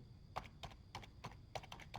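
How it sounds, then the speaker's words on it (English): Quiet keystrokes tap out on a computer keyboard in a brisk, uneven rhythm, about seven distinct clicks within two seconds, recorded close and without talk. "I'm literally going onto Google and I'm typing in"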